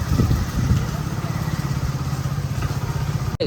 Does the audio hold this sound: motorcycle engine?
yes